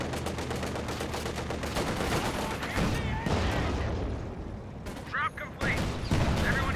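An M1919 machine gun fires in a Company of Heroes 2 match, rattling bursts of rapid shots mixed with other battle noise and explosions, with a commentator talking over the action.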